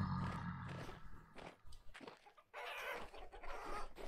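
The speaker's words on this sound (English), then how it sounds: "Chickens." Chickens clucking in Vintage Story, a few nearby clucks and squawks in short irregular bursts over quiet game ambience.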